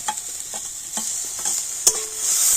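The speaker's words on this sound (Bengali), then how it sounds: "টমেটোটা একটু নাড়াচাড়া করে নেব এইভাবে" Chopped tomato and browned onion sizzle in a pan while a spatula stirs them, giving a steady frying hiss broken by several scraping strokes. The sound is close and no one talks.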